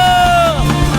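A church congregation at a revival meeting erupts in cheering and shouting, loud and crowded, with a sustained sung or called tone over the roar.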